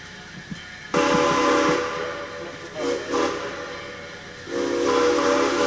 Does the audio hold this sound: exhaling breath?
no